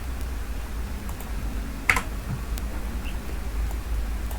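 A few computer keyboard keys pressed to enter a Ctrl+D fill-down in an Excel spreadsheet, with one sharp, close click standing out against a quiet, steady room hum.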